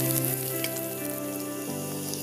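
Potatoes fry in hot oil with garlic, cumin and chillies, making a steady close sizzle throughout. Sustained tonal sounds, like background music, play over the frying.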